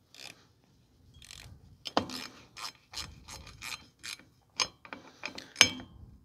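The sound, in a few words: ratchet tightening a mounting bolt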